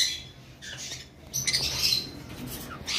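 Double red factor pet birds squawking near the microphone in several harsh, uneven bursts, clearest around the middle, with no talking over them.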